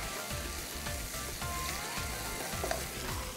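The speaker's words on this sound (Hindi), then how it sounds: "ये डालने के बाद थोड़ा सा आपने इसको इस तरह से भून लेना है मसाले को।" Spices with nutmeg and mace roast in a pan for a beef lagan pulao, a continuous close sizzle with stirring scrapes underneath, steady and moderately loud, no voices.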